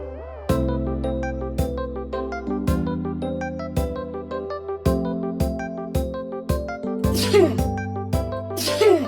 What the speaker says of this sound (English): The sound of sneezing.